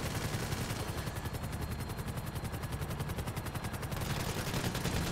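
Sustained rapid gunfire rattles without pause during a helicopter battle in GTA 5 Online, loud and steady with helicopter rotor noise beneath.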